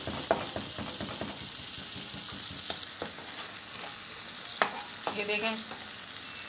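Dal with a chicken stock cube sizzles steadily in a pan, with scraping stirring strokes and occasional clinks of a utensil against the pot; a brief voice speaks near the start.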